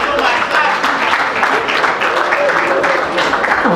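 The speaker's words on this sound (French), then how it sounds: "Si on peut applaudir pour lui ce soir." Clapping from a crowd at a sixth-anniversary evening celebration, a busy spread of hands mixed with voices and background noise throughout.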